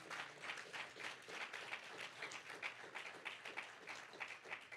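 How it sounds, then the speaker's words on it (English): Congregation at a church service claps hands, a steady run of sharp, fairly quiet claps repeating through the whole stretch with no talking. "Come on, clap real loud."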